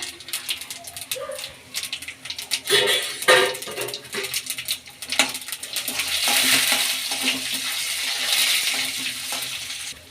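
Chana dal, urad dal, cumin and mustard seeds are tempered in hot cooking oil. Close stirring and scraping clatter comes first, then a loud, steady sizzle and crackle builds and holds.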